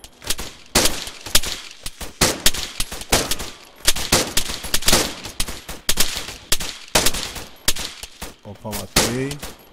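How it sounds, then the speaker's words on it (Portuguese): Loud automatic gunfire in the Arma 3 shooter rattles in repeated close bursts, and a voice speaks briefly near the end. "Mano, pior que eu tô escutando tiro nas minhas costas."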